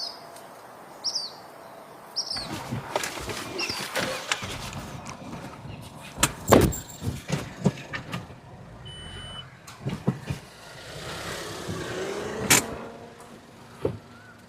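A car comes to a stop with faint interior and engine noise, a window motor whirs, and several sharp thumps from the door follow. A few bird chirps sound in the background.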